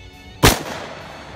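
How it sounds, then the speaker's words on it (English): A single sharp, loud gunshot from a firearm being tested with a budget Fieldsport micro red/green dot sight, followed by a short decaying echo. "I'm going to shoot it."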